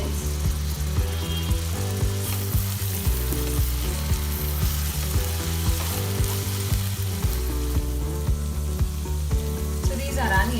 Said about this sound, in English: these are onions which are sizzling in the pan